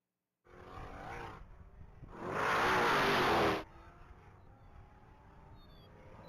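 A black 2020 Dodge Challenger Hellcat on a top-speed mile run at the Texas Mile accelerates hard, heard as a distant engine roar that swells into a loud, strained blast for about a second before dropping to a low rumble.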